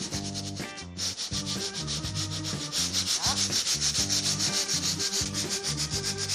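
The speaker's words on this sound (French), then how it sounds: "On va poncer un petit coup, pour que la colle adhère bien." Wood being sanded by hand before new leather is glued on, with steady back-and-forth rubbing strokes in a regular rhythm, close and clear with no talk.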